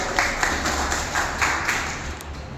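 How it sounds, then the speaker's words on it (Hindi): Crowd applause welcoming a guest at a commemoration event for the revolutionary Tatya Tope, a dense, fairly loud spread of clapping hands with a few brief sharper bursts, heard alone without speech. "जोरदार तालियां स्वागत"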